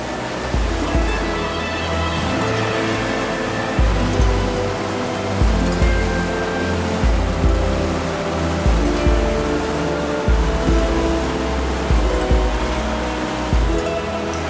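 Clear sea water off Dubrovnik, Croatia, rushes and splashes continuously as a boat cuts through it, a loud close broadband wash with rhythmic surges over a low engine rumble.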